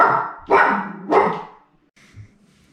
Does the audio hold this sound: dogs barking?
yes